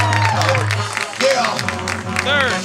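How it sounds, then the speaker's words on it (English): At a St. Thomas Eagles versus St. John's Mavericks baseball game, the crowd cheers and claps after a strikeout. The roar runs throughout, with a steady low hum and a voice speaking over it. "Third strikeout of the game for Dante Lewis. Crowd erupts."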